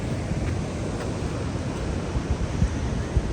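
Steady surf at Venice Beach washing in with a low, blustery rumble, moderately quiet, with a couple of slightly stronger swells near the end.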